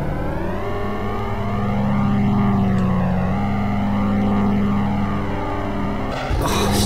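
A biplane's engine in the Amiga video game Biplanes drones steadily, a loud buzzing tone that rises slightly in pitch, then a sudden noisy crash bursts in near the end.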